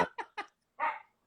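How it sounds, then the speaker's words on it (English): A dog barks loudly while chasing a cat: three short, sharp barks in quick succession, a pause, then a longer drawn-out bark and the start of another, all close and with no talking. "My dog, he's barking so loud."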